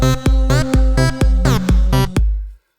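Short electronic music loop built from bass, kick drum, a lead synth and strings, a loud repeating pattern of punchy hits and sustained chords that cuts off abruptly into silence.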